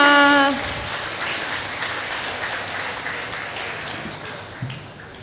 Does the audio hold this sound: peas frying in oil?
no